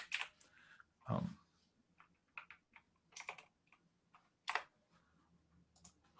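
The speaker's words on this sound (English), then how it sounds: "I'll type it in." Sparse keystrokes on a computer keyboard as a short value is typed in, a handful of separate, fairly faint clicks with pauses between them and one duller thump near the start, no voices.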